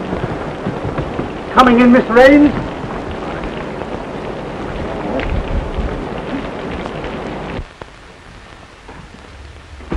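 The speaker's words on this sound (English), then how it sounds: "I'm getting out of the storm" Heavy storm rain pours steadily with a low rumble of thunder in a 1934 film scene, while someone speaks briefly over it before the noise drops away near the end.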